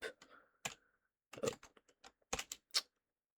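Computer keyboard typing nearby, close and fairly quiet: short bursts of crisp key clicks separated by brief pauses, no talking.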